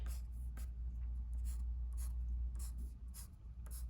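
A pencil sketching quick repeated lines on paper to suggest brick texture on a drawn wall, a series of soft scratchy strokes in a steady rhythm over a low background hum.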